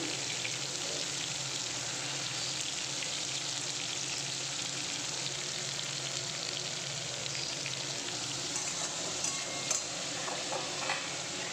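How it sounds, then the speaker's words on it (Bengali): Potatoes frying in a pan of oil, an even, continuous sizzle close by with occasional small pops and stirs. "এখানে আলুটা আগে ভালো করে আমি ভেজে নিচ্ছি"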